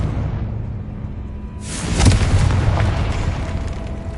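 A Confringo fire spell explodes in the Hogwarts Legacy video game, a sudden loud blast that breaks a low ambient hum and then rumbles and crackles as it fades.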